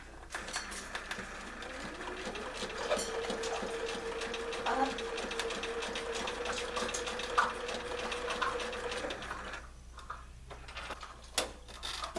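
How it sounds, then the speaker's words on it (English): A sewing machine stitches appliqué pieces onto a manatee quilt block in a steady, close mechanical whir for about ten seconds, then stops, leaving a few light clicks and handling noises. "And I'm just gonna sew those on."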